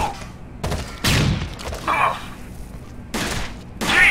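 Gunfire in the tactical shooter Rainbow Six Vegas, several loud bursts of shots separated by short pauses, with chaotic combat noise in between.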